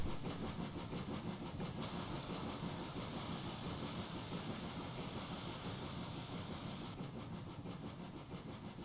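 Simulated GWR steam locomotive 6960 Raveningham Hall labours up a steep bank on the West Somerset Railway in Train Simulator 16, giving a steady, dense mechanical roar with faint rhythmic chuffing and clatter throughout, and no voices.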